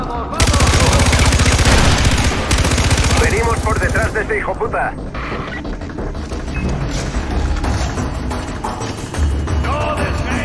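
Loud, dense bursts of rapid automatic gunfire with heavy booms and crashes, continuing in chaotic volleys, in the video game Far Cry 4.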